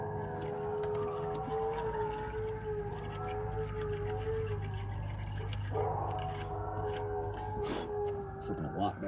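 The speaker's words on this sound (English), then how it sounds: "And there goes the dogs." Long, wavering dog howls rise and fall in a steady tone over a constant low rumble, with a police siren wail running through the whole stretch.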